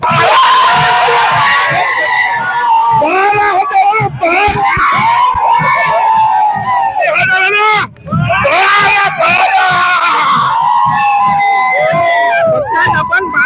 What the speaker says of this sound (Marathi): बांगर जल्लोष करतायत आणि या ठिकाणी मोठी गर्दी आहे